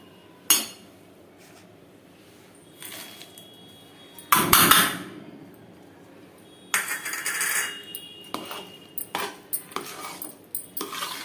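A spoon stirs ghee and dry fruits into jaggery-sweetened rava kesari in a metal pan, giving scattered clinks and scrapes in bursts with quiet pauses between.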